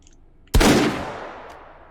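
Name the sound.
stun rifle being fired in a VR video game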